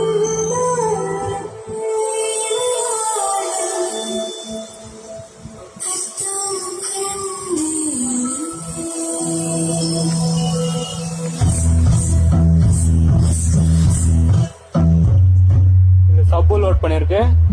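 A freshly assembled 2.1 amplifier driving a subwoofer plus left and right speakers plays music loud and steady, with deep bass thumping heavily in the second half and a brief dropout near the end.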